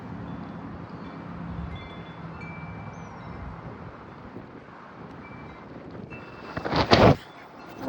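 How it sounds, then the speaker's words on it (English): Strong wind gusts of over 50 mph roar on the edge of a severe thunderstorm, with a steady blustery rumble across the microphone that builds to a sharp, loud buffeting burst near the end. "That was a huge gust."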